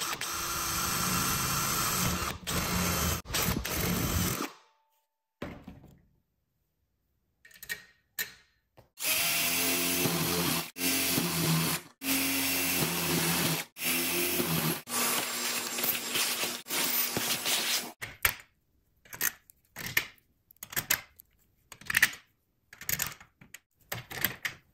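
A power drill fitted with a Milwaukee bit bores a hole through a metal hinge on a Harbor Freight solar panel suitcase, sounding as several loud, ragged bursts of whirring and grinding separated by short pauses and silent gaps.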